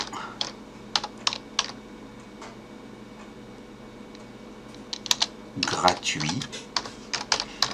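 Clicky keyboard typing in short bursts with pauses, keys tapped quickly, a busier flurry near the end, a voice briefly speaking underneath.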